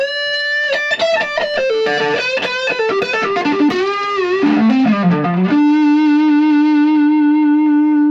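Electric guitar playing a melodic line through a filter effects pedal, tones sliding and bending before settling into a long sustained note; loud, no voices.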